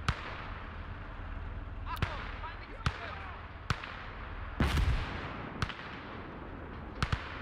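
An artillery battery fires in the World War II game Call to Arms: Gates of Hell, sending out a series of sharp, distant booms at irregular intervals over a low background rumble, with no talking.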